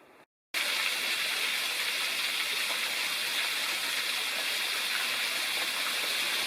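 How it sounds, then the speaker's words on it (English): An unnamed waterfall beside a trail near the Clear Fork River rushes in a dense, steady roar of splashing water, loud and close, starting after a brief cut of silence and continuing unbroken. "Unnamed waterfall off to the side of the trail"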